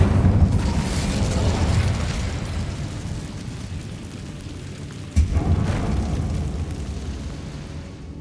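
Fiery blast of the Incendio spell in Hogwarts Legacy, a loud rumbling burst that swells and tails off, followed by a second sharper boom about five seconds in, with no talking.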